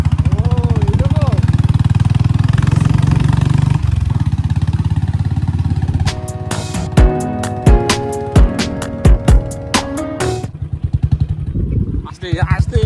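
An old Bullet motorcycle engine runs with a loud, deep, steady rumble, then settles into uneven thumping pulses near the end, while people talk close by over it.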